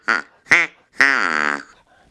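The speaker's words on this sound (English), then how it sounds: "the Acme siren also had a duck call." Three quacking blasts from an Acme siren duck call with a slider: two short honks followed by a longer one that slides in pitch, sounding close and alone.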